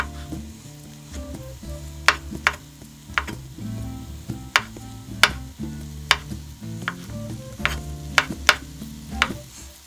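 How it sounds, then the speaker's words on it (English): Vegetarian mushroom rice sizzling in a pan, a steady close frying hiss broken by sharp scraping stirs and utensil taps, with no one talking. "the pan is sizzling"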